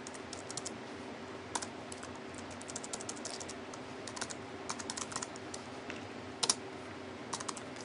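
Steady, fairly quiet typing on a computer keyboard while entering iPhone SDK code, with irregular clusters of key clicks and occasional louder taps, no voices.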